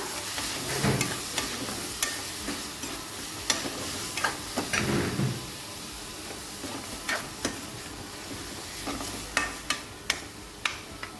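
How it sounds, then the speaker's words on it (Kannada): Onions for a mutton cutlet mixture frying in a pan, a soft continuous sizzle punctuated by sharp scraping and tapping strokes of a spoon stirring, close and fairly quiet. "ಈಗ ಇದನ್ನು ಚೆನ್ನಾಗಿ ಸ್ವಲ್ಪ ಹುರಿದುಕೊಳ್ಳುವ"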